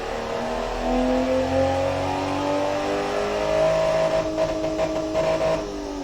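Simulated car engine in the Automation tycoon game revving up and holding high, rising and falling harmonic tones over a low rumble for several seconds, loud and alone without speech.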